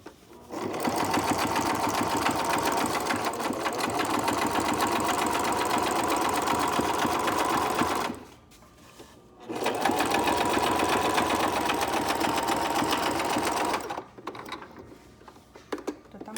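A sewing machine stitches a zigzag seam on a homemade face mask, running in two long steady bursts of rapid mechanical clatter separated by a short pause, close and loud, with faint handling sounds at the end.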